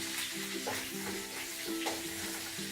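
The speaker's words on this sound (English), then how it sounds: "you want to put the onion in and saute it until it's golden, golden brown or brown" Onion sautés in a warm wok for a Fiji-style prawn curry, a gentle steady sizzle close by with a soft tonal hum running beneath and occasional stirring scrapes.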